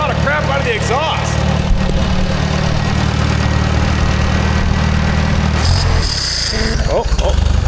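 A rare Michigan loader's engine runs steadily in a loud, continuous rumble with a deep low drone throughout, and the sound shifts toward the end of the clip.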